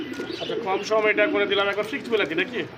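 Pigeons at a pigeon market coo in soft, throaty, rolling calls, close by and overlapping, with busy market voices mixed in.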